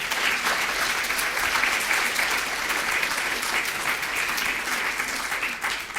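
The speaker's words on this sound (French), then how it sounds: "Je pense qu'on peut les applaudir." Audience applause for panelists at the close of a French-language panel discussion on training for global issues such as climate, biodiversity and health, dense and sustained clapping throughout, fairly close, with no voices over it.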